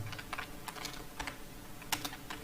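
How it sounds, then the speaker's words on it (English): Quiet, close typing on a computer keyboard while coding, with soft, irregular key clicks and an occasional louder keystroke over faint background hiss. "I will type"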